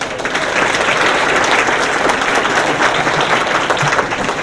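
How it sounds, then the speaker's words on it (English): Loud, sustained applause from an audience at a county legends honors ceremony, a thick wash of many hands clapping at once that stays even throughout. "So one more time, let's give them all a round of applause."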